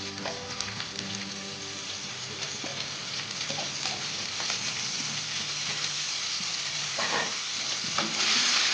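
Shyama millet fries in oil with ginger and green chilies for an Ekadashi khichuri, giving a continuous close sizzle that swells toward the end, with intermittent stirring scrapes.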